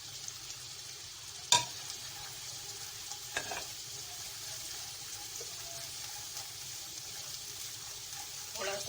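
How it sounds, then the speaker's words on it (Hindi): Garlic, ginger and spices frying in a pan give a low, steady sizzle, with a few utensil clinks and scrapes from stirring. "ये देखिए मसाला भून गया हमारा लहसुन अदरक। अब हम सूखे मसाले डालेंगे।"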